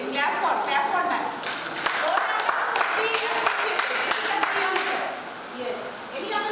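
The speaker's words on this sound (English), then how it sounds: "Clap for madam." Participants at a teachers' training programme clap for a teacher, a dense stretch of clapping with voices talking over and through it, fairly loud and steady before easing slightly at the end.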